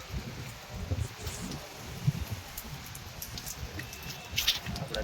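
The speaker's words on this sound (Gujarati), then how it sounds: "વરસાદ આવે ફૂલ વરસાદ આવી ગયો છે" A constant wash of heavy rain patters on surfaces of a rooftop terrace, with scattered louder drops and rustling breaking through the steady hiss.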